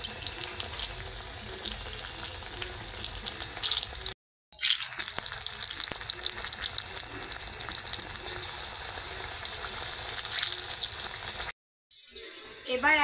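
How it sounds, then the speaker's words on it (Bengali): Bitter gourd pakoras deep-fry in hot oil with a continuous close bubbling hiss and crackle, cut by two short silent breaks. "এবার একদম উল্টে পাল্টে লাল লাল করে ভেজে নেব।"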